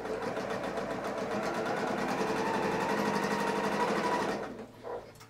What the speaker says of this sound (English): I'm gonna sew it from the batting side up.